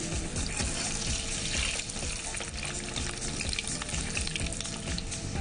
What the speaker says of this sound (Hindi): इसको लाइट गोल्डन ब्राउन कलर तक हम भूनेंगे